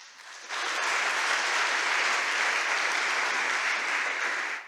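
An audience at a staged mock-trial event breaks into applause after a brief quiet moment, a dense, even wash of many hands clapping that holds steady for several seconds before tapering slightly at the end.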